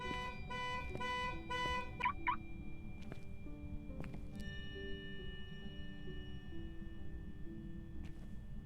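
A car alarm blares in the horror game Phasmophobia, repeating honking tones at a distance over a low steady rumble, followed by sparse sustained electronic tones.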